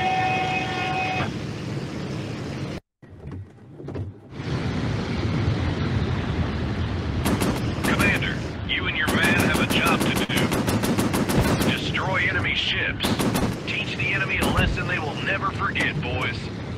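Machine guns on a warplane in a Pacific air battle video game fire in rapid bursts over a loud, steady engine drone, with a voice speaking over parts of it.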